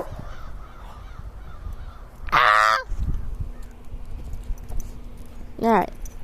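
Crows caw outdoors during a walk, one loud harsh burst of calls midway and a shorter caw near the end, over a steady low background rumble.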